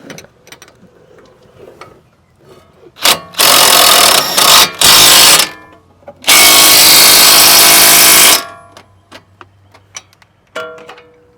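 An 18mm socket on a power tool tightens a front sway bar link on a 2013 Dodge Grand Caravan, three loud sustained whirring runs, the last and longest about two seconds, with quiet clicks and handling noises in between.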